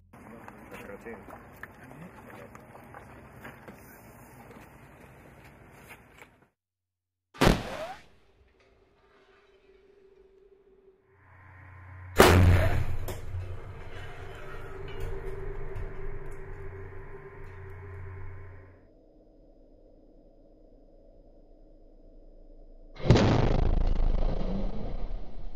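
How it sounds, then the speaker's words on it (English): Compressed-air launch of an NLAW anti-tank missile test body standing in for a live missile: sharp bursts near 7.5 and 12 seconds, then a rumbling hiss lasting several seconds and a final loud burst near the end. "For testing, they used a compressed air propulsion system and this body instead of an actual missile."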